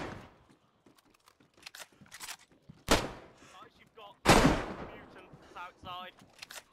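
Sparse, loud gunshots ring out in DayZ, a couple of sharp booming reports with decaying tails, separated by quieter stretches while people talk over the action.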